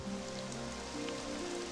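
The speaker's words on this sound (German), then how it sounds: "Hier regnet's immer zu." Soft, steady rain patters in Dragon Quest XI, a faint continuous hiss of falling water beneath sustained, gentle musical tones.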